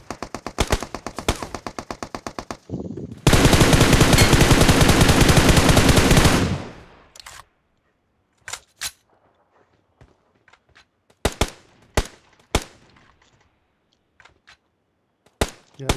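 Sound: gunfire in PUBG video game

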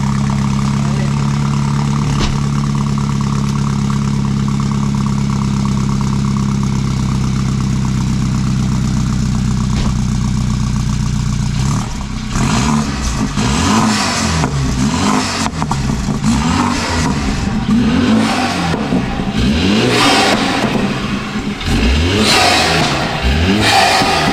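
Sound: BMW 328i engine revving

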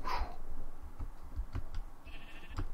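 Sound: sheep bleating in Minecraft video game

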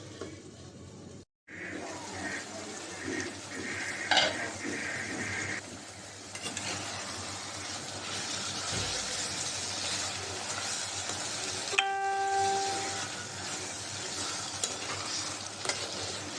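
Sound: mutton with potatoes being stirred and braised in a pan

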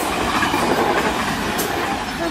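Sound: train passing on railway

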